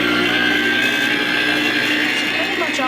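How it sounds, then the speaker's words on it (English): A blender mixes sour cream bread dough with a steady, loud, close whirring drone that runs unbroken for about three seconds. "And then I'm going to turn my blender back on."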